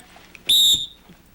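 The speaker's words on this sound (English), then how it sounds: "He should sit down on the whistle, wait for my command." A dog training whistle gives one short, sharp, piercing blast outdoors, used to stop a Labrador retriever during a training session.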